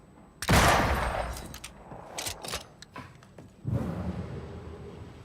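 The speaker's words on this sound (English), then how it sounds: "I like how no one reacts to the gunshot" A single loud gunshot cracks in the PC game Banishers: Ghosts of New Eden, followed by a decaying rumble, a few clicks and creaks, then a second heavy thud-like burst.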